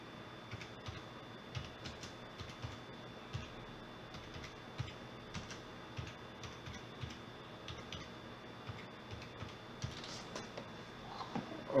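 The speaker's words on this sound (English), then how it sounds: "just type ADB Reboot Bootloader." Keys tapped on a computer keyboard while entering an ADB reboot-to-bootloader command for a Lenovo TB-X103F tablet, soft scattered clicks in an irregular run, fairly quiet and steady throughout with no talk.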